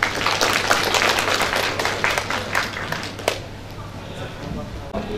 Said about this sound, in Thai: ขอเสียงปรบมือ